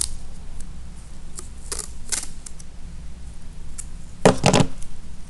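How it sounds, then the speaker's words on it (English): Adhesive tape peeled and torn, apparently to hold down mesh on a solar car kit, with a few short crisp rips early on and a louder burst of tearing near the end, close and without talk. "let me take another piece of tape"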